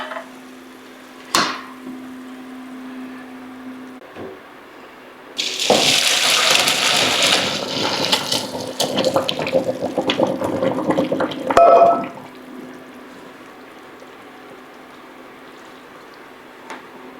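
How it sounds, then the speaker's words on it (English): Cooked broccoli drained through a strainer in a sink: a sharp clank, then a steady rushing pour of water for several seconds with metallic knocks, tapering off before a final clatter and a quiet hum. "you can turn off the heat and strain these"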